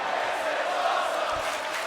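A virtual arena crowd in a WWE 2K wrestling game roars and cheers in a steady broad wash after a wrestler is sent through the barricade, with no voices over it.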